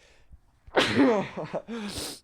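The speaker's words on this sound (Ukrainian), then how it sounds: "Зараз хочу чихнути." A person sneezes once, a close, loud burst with a sharp intake of breath before it, followed by a brief exhale.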